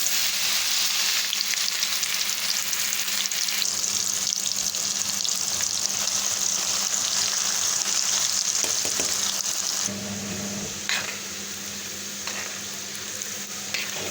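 Steady, loud sizzling of mung dal frying in a pan, continuous crackle throughout, easing slightly in volume near the end with a few clinks.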